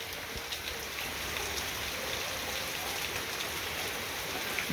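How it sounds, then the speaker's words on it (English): Steady rain falls in Kentucky, a dense, even hiss of drops on surfaces that holds at a constant level throughout without any voices. "It's raining in Kentucky once again."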